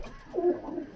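A white male high-flying pigeon lets out a single soft, low coo that rises and rolls briefly, close by and alone.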